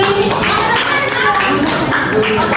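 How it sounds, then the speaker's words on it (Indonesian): Students clapping in a school classroom, loud, close, irregular handclaps mixed with lively chatter and voices over the clapping. "tepuk tangannya mana sih?"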